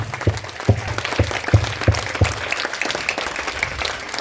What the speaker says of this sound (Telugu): మన మధ్యన ఉన్నటువంటి నాయకులందరికీ ఒకసారి గట్టిగా మీరు చప్పట్లు కొట్టాలి